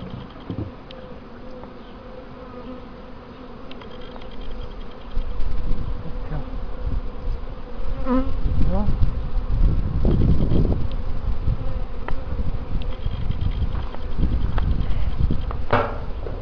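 Bees buzzing around beehives, a steady dense hum that swells louder midway, with occasional knocks and handling sounds nearby and no talk.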